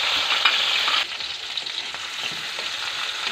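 Sliced onions and tomatoes fry in a hot pan, a dense steady sizzle with soft stirring scrapes throughout, close and fairly loud with no voices.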